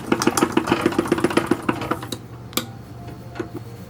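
A sewing machine stitches the sheer dress of an 1860s porcelain doll: a quick, even run of stitches for about two seconds, then the motor stops and only faint handling noises follow.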